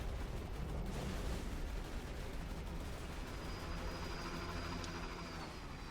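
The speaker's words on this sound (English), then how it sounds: "Shoot out some Myrmidon shots for stacking." Myrmidon shots fired in Borderlands 2 with turrets deployed, heard as dense, rumbling game gunfire and explosive blasts running continuously at a fairly low level.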